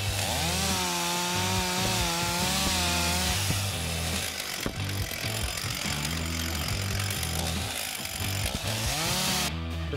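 Loud, continuous chainsaw roars as it bites through a conventional flat roof during a fire department vertical ventilation inspection cut, engine pitch rising and dropping with the load.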